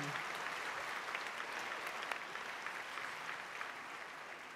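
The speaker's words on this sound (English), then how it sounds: "Let's have another round of applause for our concert choir." Audience at a high school graduation ceremony applauds a concert choir, a steady wash of clapping from a large crowd heard at a moderate distance, with no talking.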